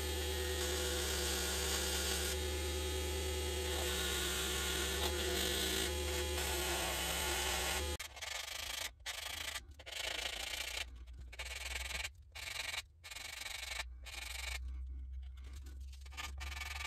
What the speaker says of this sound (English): I'm going to use my belt sander to get most of it, and then I'll use the sanding block to do the final touches.